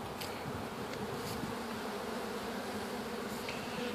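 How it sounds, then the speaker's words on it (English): A dense, steady buzzing of a swarm of bees being shaken during a bee removal fills the space continuously, close and loud, with no voices. "Lots of bees in here."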